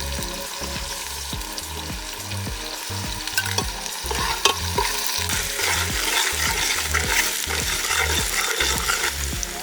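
Large-cut onion pieces with green chillies sizzle and fry steadily in a pan for a Rajwadi sev tameta curry, a spoon stirring and scraping in a regular rhythm throughout, close and continuous with no talking.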